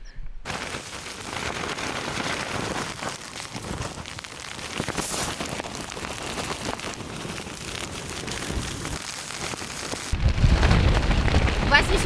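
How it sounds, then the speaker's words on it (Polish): Heavy rain and strong wind outside at night near Trolltunga in Norway, a continuous dense patter and hiss with gusty swells that grows louder and rougher toward the end. "Wieje wiatr na maksa, leje deszcz na dworze."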